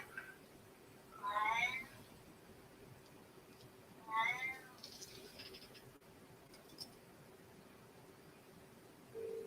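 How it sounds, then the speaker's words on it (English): A cat meowing to be let out, two clear drawn-out calls a few seconds apart with a faint third at the very end, fairly distant in an otherwise quiet room. "they can obviously hear him meowing to come out."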